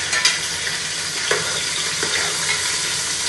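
Onions and chillies added to hot oil with cashews and a bay leaf for coconut rice, giving a continuous close sizzling hiss with a few light stirring scrapes.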